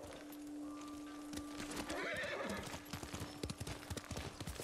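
Horse hooves clip-clop in an uneven rhythm in the video game Ghost of Tsushima while a horse whinnies midway, a brief call standing out over the steady footfalls.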